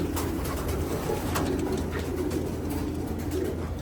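Soft cooing of sick pigeons with new chicks in a loft, under a steady, low background rumble, with the calls repeating in gentle bursts throughout.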